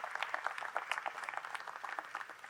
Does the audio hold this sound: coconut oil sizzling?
no